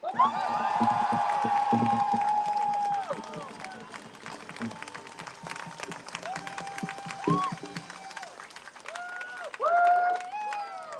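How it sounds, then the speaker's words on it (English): Crowd applause and cheering swell and fade, mixed with shouts and whoops, while a voice carries over the noise. "Please, another round of applause."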